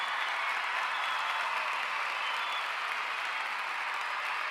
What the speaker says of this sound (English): You guys can hear my applause